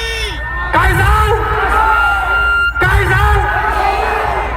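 At a political rally, a loud voice bellows and a crowd shouts back in response. Two strong, sustained yells are separated by a brief pause, with general crowd noise underneath.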